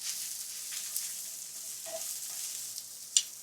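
A soft, steady sizzle of shiitake mushrooms frying in a pan, with a few faint clicks and a sharp clink near the end.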